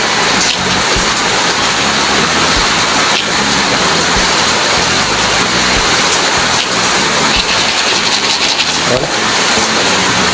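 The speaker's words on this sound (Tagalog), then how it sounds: "sobrang lakas nga ng ulan." Heavy typhoon rain pours down in a loud, unbroken roar, with dense drumming on surfaces near a chicken yard; a voice briefly speaks under the downpour.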